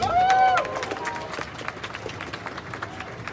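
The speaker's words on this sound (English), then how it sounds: "Let's give a round of applause for Chris" A crowd claps outdoors at a pro-democracy rally of Myanmar students in Australia. A short whistle-like tone opens, then a sustained patter of many hands runs on, moderately loud and gradually settling.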